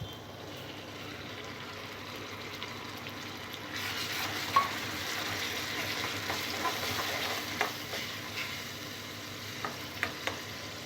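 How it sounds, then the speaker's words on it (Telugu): Ginger garlic paste and tomato paste frying in hot oil for a cherry tomato curry, a steady close sizzle that grows denser partway through, with occasional stirring clinks and taps against the pan. "టమాటో పేస్ట్ వేసిన తర్వాత ఈ పచ్చివాసన పోయే వరకు బాగా ఆయిల్లో ఉడికించుకోవాలి"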